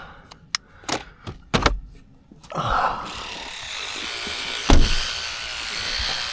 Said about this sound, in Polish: Tu mamy szczoteczki.